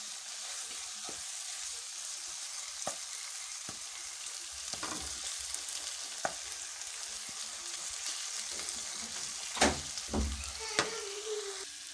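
Tomatoes and onions frying over a raised flame in a karahi for potato karahi, a low steady sizzle with occasional spatters and a few louder stirring clunks near the end, no talking.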